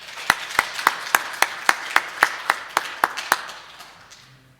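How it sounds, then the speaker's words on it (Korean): A Korean church congregation at a Sunday worship service claps to welcome the preacher, a dozen crisp, evenly spaced claps in a steady rhythm that fade out at the end. "나오실 때 우리 박수 한번 하겠습니다"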